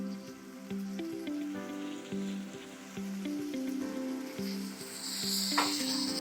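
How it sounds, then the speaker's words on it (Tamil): Steady crackling sizzle of tomatoes frying in a hot pan with ginger-garlic paste for green gram curry, continuous and close, with a brief sharper hiss near the end. "இஞ்சி பூண்டு பேஸ்ட் சேர்த்த உடனே நாம் தக்காளி சேர்த்துக்கலாம்"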